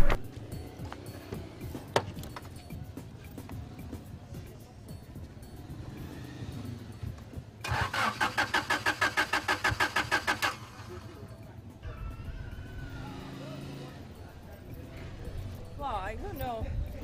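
A car engine struggles to start, the starter cranking in a fast rapid rhythm for a few seconds without catching, amid background noise and people talking.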